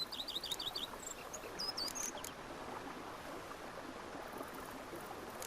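Birds chirp in the peaceful countryside of Witcher 3: Blood and Wine, with a few short bright calls early on over a steady soft wash of ambient outdoor noise, fairly faint and with no voices.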